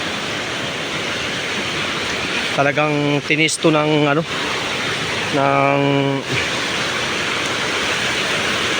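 Water flows steadily from a natural spring in a constant, close, rushing wash, while someone talks over it in two short stretches.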